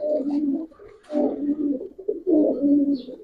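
Close, low cooing of Teddy pigeons in repeated rolling phrases with short pauses between them.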